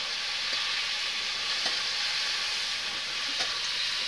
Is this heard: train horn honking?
no